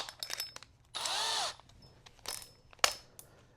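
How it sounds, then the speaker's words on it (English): A power drill fitted with a 1-inch hole saw bites briefly into a plastic car bumper on a 2012-2015 Camaro ZL1, one loud half-second whirring burst between scattered handling clicks and knocks. "start drilling a hole through the metal crash assembly or the bumper below it"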